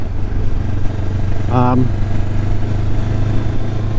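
A motorcycle rolling slowly, its engine giving a steady low droning rumble close by throughout, with a short tonal whine partway through and a rider talking over it.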